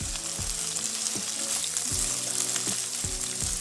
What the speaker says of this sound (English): Heat up the pan, add some oil. Add the onion.